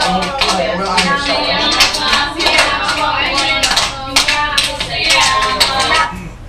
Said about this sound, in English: this clapping and song game that they're singing was made by a former student many years ago too